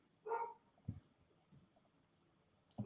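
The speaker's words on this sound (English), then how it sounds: "That's my dog." A dog gives a couple of sharp barks indoors, one short burst early and another at the very end, separated by quiet room noise.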